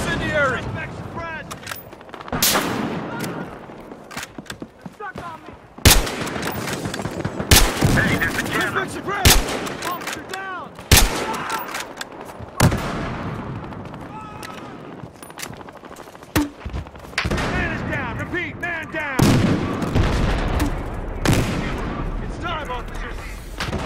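Rapid gunfire and sharp blasts from an incendiary weapon in a sniper-support video game, loud and repeated in bursts, with radio-style voices and shouted talk between the shots.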